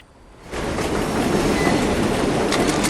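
A train rolls steadily through the game world of Wolfenstein: The New Order, its continuous rumble and rail noise swelling in after a quiet half-second and holding loud to the end, with no voices.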